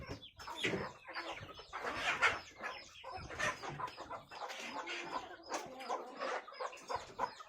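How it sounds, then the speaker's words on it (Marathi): Busy, overlapping clucking from several chickens, steady and fairly close, with a dense farmyard chatter running throughout. "ज्या कोंबडीने पिल्ले काढलेली आहेत ती कोंबडी"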